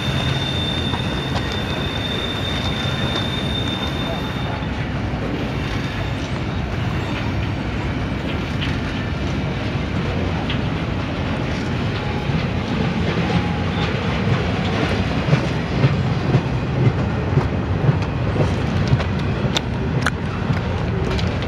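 A Norfolk Southern freight train rolls past steadily, with low rumbling, clattering wheels and occasional squeals from the track, continuous throughout with no talk.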